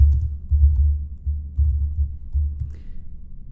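Fingers tapping out an expression on a computer keyboard in short, steady bursts of close, soft clicks, with brief pauses between runs and no talking.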